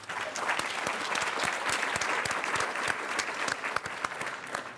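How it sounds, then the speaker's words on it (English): An audience at a startup pitch event applauds the pitchers, with sustained, even clapping from a sizable crowd, some louder nearby hand claps popping out of the steady wash. "Big round of applause to all the startup pitchers"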